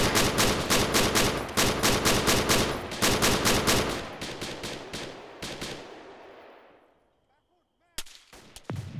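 Arma 3 firefight with dense bursts of automatic gunfire and repeated shots, loud and rapid for several seconds, then fading into echoing reports before a sudden sharp crack and further shots near the end.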